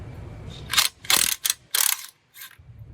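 Ratchet wrench loosening a 12mm bolt on a bracket holding the speed sensor and brake hose of a 2010-2015 Lexus RX350/RX450h, with several close, loud bursts of rapid clicking separated by short pauses.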